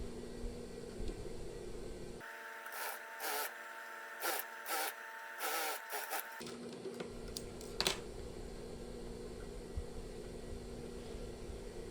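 A sewing machine stitches a lined batik shirt in several short, rapid bursts with brief pauses between them, set against a quiet room hum.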